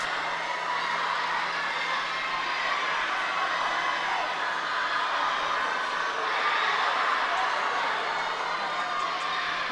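A crowd of teammates at a girls' swim meet roars in a steady, echoing indoor wash of cheering and shouting that swells slightly partway through, with no distinct individual voices.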